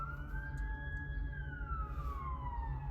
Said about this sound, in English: I hear a siren and a fire engine.